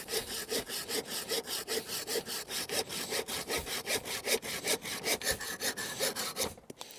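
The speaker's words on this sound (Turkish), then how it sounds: "Şimdi 4 santimlik elimdeki en kalın dalı her 3 testereyle de keseceğim." A Rico hand saw cutting through a thick 4 cm branch with steady, rhythmic back-and-forth strokes, close and even, with no talking.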